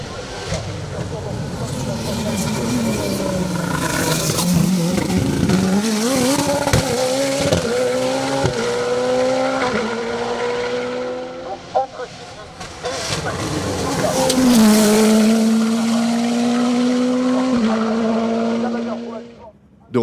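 A Nova Proto NP01 Turbo race car charges up a hill climb at Vuillafans-Echevannes, its engine rising and falling through repeated upshifts with bursts of acceleration, while a commentator talks over the racket.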